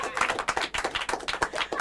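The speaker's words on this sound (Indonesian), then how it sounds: "Tepuk tangan dong." Hands clap in a quick, uneven run of sharp, close claps at an Indonesian open mic comedy show, steady for about two seconds with no talk over it.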